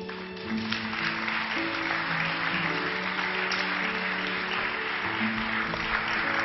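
A school audience applauds after a poetry reading, a dense, sustained clapping that fills the room evenly and carries on without pause.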